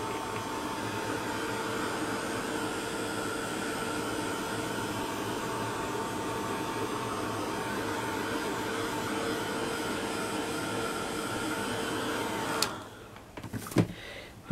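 Steady, loud whooshing hum of a hair dryer blowing over mixed media paint on a canvas, running continuously for about twelve seconds before cutting off, followed by a few small clicks and knocks.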